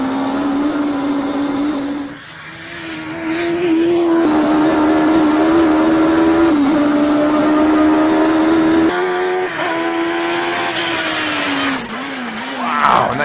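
A front-wheel-drive Mini race car fitted with a Yamaha R1 motorcycle engine screams through repeated high-revving acceleration runs, the loud, close engine note climbing and dipping with gear changes and no talk over it.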